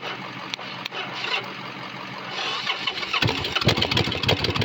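A motorcycle engine with a newly installed pump is cranked and catches about three seconds in, jumping from faint churning into a rough, loud running rattle.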